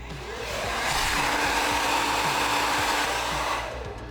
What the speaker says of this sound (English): the hairdryer's actually on, but the sensors are doing all the work for me